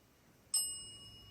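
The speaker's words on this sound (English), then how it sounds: "And there's 2 bells." A single bright bell strike rings out once and its clear tone lingers, slowly fading in an otherwise quiet space.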